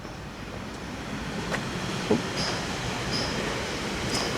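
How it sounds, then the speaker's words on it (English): A GO commuter train passes out of sight in Toronto's Monarch Park neighbourhood, a steady, distant broadband rumble and whoosh lasting the whole stretch, with faint high chirps over it and no voices. "It's a GO train, can't really see it from this vantage point."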